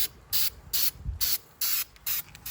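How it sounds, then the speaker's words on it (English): Bondo rubberized coating hisses from an aerosol can onto EVA foam in six short, even spray bursts with brief pauses between them, close and fairly loud. "we've got to seal the EVA, and I'm using this Bondo rubberized coating"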